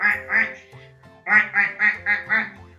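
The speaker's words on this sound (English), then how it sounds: "It's a duck." A duck quacks in short, nasal bursts: two quacks, a brief pause, then five more in a steady run, each clear and close.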